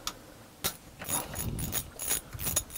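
A ratchet with a 10 mm socket loosens a bolt on a car thermostat housing, giving quiet, close clicking in several short bursts of rapid pawl ticks with brief pauses between.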